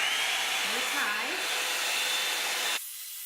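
A Revlon One Step dryer and volumizer brush blows on its high setting, a loud steady whooshing whine close by, with a voice murmuring over it before the motor cuts off abruptly near the end.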